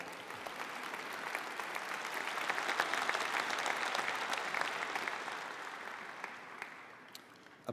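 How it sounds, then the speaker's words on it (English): Sustained applause from a large audience at a university fall convocation for graduates and their families, swelling slightly mid-way and tapering toward the end, steady dense clapping with no talk over it. "Applause is free, so you know, feel free anytime."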